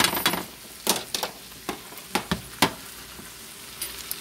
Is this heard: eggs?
yes